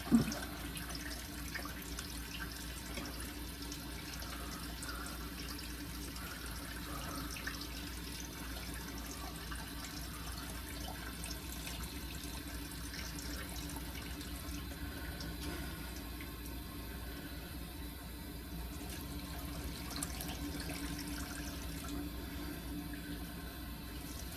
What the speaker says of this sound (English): I'm gonna start by washing my face off to get off all of the stuff that I put on my face at night